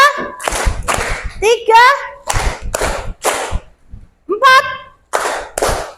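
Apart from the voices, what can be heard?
hands clapping in rhythm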